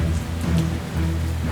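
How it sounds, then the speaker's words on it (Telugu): Heavy rain pours down steadily in a constant close wash of drops striking a surface, with no voices and only slight swells in loudness. "ఒకరోజు ఉన్నట్టుండి బోరున వర్షం."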